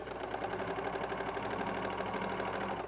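A sewing machine stitching fabric runs in a steady, continuous mechanical whir with a fast, even rhythm of needle strokes, moderately close and without talking.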